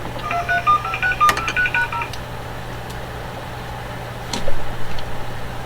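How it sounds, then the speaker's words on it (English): A run of telephone keypad dialing tones beeps in quick succession for a call, clear and close, over a low steady hum, with no talking. "we'll put in a call to Dr. Phil Anton"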